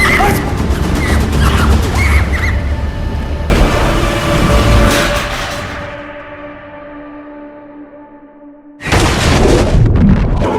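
Film scene of falling debris on an oil rig disaster: heavy crashing and smashing, loud and dense, fading into a low rumble before another burst of crashing impacts erupts near the end.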